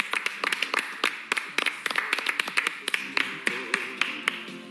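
A studio audience on a Montevideo breakfast TV show gives a singer a send-off applause. Scattered, close, uneven claps and taps arrive in an irregular rhythm that never builds into a full ovation.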